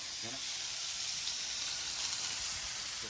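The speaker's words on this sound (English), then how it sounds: "Going to cook this large size picanha supreme on the griddle and gonna sear all the way around on the fat side and on both sides." Large picanha steak searing fat-side down on a hot griddle, giving a steady broadband sizzle and hiss that holds evenly throughout with no pauses.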